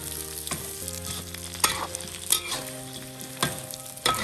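Vegetables stir-fried in a wok with hotpot seasoning on a home stove, sizzling and frying steadily throughout, with repeated sharp scrapes and clanks of the spatula against the wok. No one speaks.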